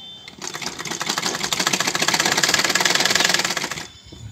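A sewing machine stitching the long seam of a baby frock from sleeve to body, a loud, close and rapid rhythmic clatter that builds up, runs steadily for about three seconds and then stops.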